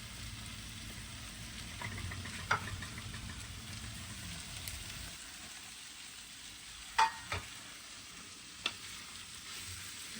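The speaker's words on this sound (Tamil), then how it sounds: "கருவாடையும் போட்டு நல்லா மிக்ஸ் பண்ணிட்டு" Dried fish fries quietly in a pan, a low steady sizzle broken by a few sharp clinks and scrapes as a spoon stirs and mixes it.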